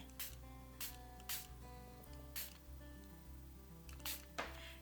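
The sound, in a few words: spritzer bottle spraying water over colours on card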